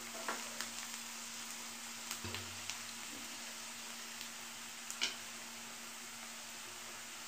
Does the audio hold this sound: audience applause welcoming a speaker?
no